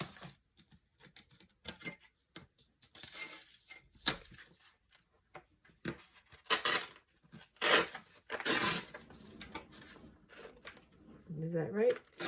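A blade drawn in several short scraping strokes along a ruler, slicing through thin tissue-box cardboard up close, with crinkly handling noise between passes and someone talking in between.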